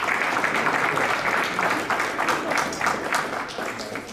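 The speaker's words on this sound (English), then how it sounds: "One more round of applause for Finance for Life." Sustained audience applause for a business school innovation contest team, a dense, even patter of many hands clapping at close range, holding steady for several seconds before easing slightly.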